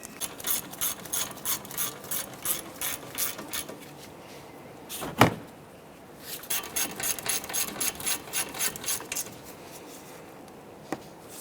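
A hand ratchet clicks steadily as it snugs down the CV axle bolts on a 2006-2013 Chevrolet Impala, in two quick runs of rapid pawl clicks broken by a single metallic clunk, fairly faint and close.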